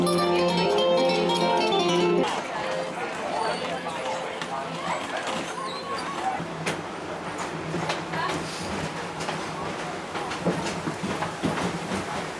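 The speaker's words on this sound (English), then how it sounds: "I am going to get the train over to Rafiki's Planet Watch now." The train to Rafiki's Planet Watch at Walt Disney World rolls along with a continuous rumbling, clattering ride noise and rhythmic wheel clicks throughout, loud and close, with faint background voices mixed in.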